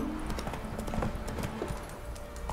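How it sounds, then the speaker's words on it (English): Roach the horse in The Witcher 3 walks along with repeated, fairly quick hoof clip-clops, moderately quiet and close, with no voices over them. "我家的马又不过来，讨厌！"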